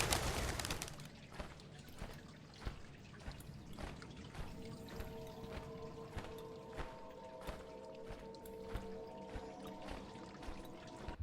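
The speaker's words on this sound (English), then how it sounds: "A cheerful little bird is sitting here singing." A cheerful little bird sings in the text adventure game Colossal Cave, heard as soft repeated chirps over a steady tonal game ambience with trickling water-like sounds, with no talking.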